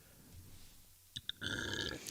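A short burp rises out of a quiet room during a live stream, preceded by a couple of small clicks and followed by a brief, fairly close gurgling eruption.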